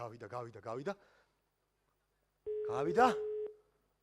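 A voice speaks briefly, silence follows, then a steady electronic phone disconnected tone sounds for about a second while someone talks over it.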